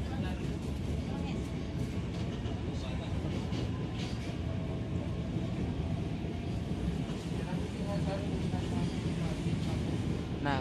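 KA Singasari train with a vintage-livery locomotive passing Cakung station on double-double track: a continuous rolling rumble of rail cars, steady and fairly close, under faint voices.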